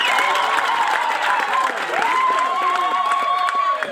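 An audience claps and cheers for a pastor at a church gathering. Sustained, dense applause comes from the crowd, with a voice rising over it.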